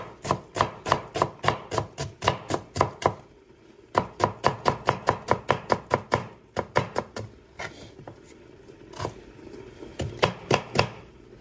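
Onions being chopped with a knife on a cutting board, a steady fast run of sharp, close, loud strikes in bursts with a brief pause in between.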